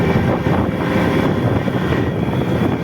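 A restored Suzuki Max 100R two-stroke motorcycle engine running steadily in top gear, a continuous dense drone held at constant loudness throughout, close and without any talk.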